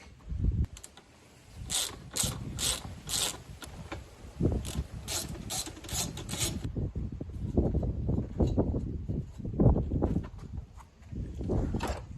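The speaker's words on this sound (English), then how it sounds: "All I'm doing is hanging onto the part I don't want to bend with this wrench, bending the other part with the other wrench." Two wrenches bend a bent car bracket on a rollover-damaged YXZ side-by-side, giving close metallic creaks, rattles and scraping clicks in bursts, with sharper clanks early and rubbing strain later.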